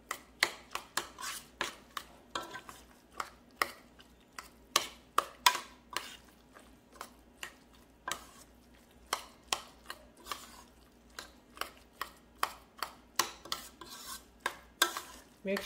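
Rhythmic scraping and clinking of a spoon stirring pumpkin casserole ingredients with coconut and cinnamon in a dish, steady repeated strokes heard close and fairly quiet with no talk.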